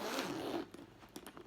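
A single-pull zipper on a black Coach Mini Sierra cross-grain leather bag is drawn in one quick close rasp, followed by a few faint clicks of the pull.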